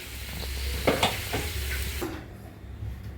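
Potatoes and chicken fry in a pan in a home kitchen, with a steady close sizzle and several sharp scraping stirs, the hiss dropping away toward the end.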